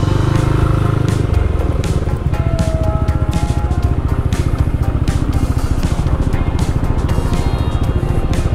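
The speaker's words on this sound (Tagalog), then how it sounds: "Naku, traffic dito." Motorcycle engine running up close through rush-hour night traffic in Dagupan City, a steady rapid putter throughout, loud and continuous with no talk over it.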